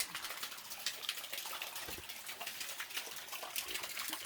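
Waterfall at Augrabies in Namibia, a continuous broadband rush and gush of falling water, steady and fairly loud with no speech over it.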